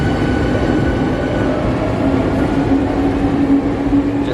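A local train departs and rolls past at a station in Osaka, a loud, steady rumble of wheels and carriages that swells slightly toward the end.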